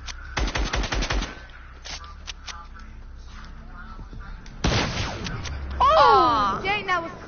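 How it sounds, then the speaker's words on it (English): An assault rifle fires in a video game, starting with a fast burst of close, loud automatic shots and then a second heavy salvo. A player's voice rises excitedly over the end of the gunfire. "Watch, I'm gonna kill you with my assault rifle."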